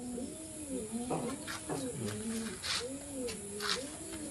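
Several pigeons coo repeatedly in soft, rolling phrases, with faint rustling and a murmur of background noise.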